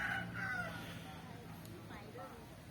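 Chickens kept on a small Thai home plot with a vegetable patch, faint clucking and calls heard at a distance under quiet background sound.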